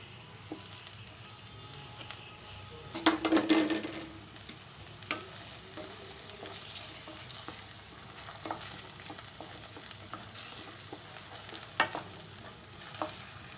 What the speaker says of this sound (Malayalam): ഒന്ന് യോജിപ്പിച്ച് കൊടുത്തിട്ട് നമുക്കിനി അതിലേക്ക് അരിഞ്ഞു വെച്ചിരുന്ന ടൊമാറ്റോ ഇട്ട് കൊടുക്കാം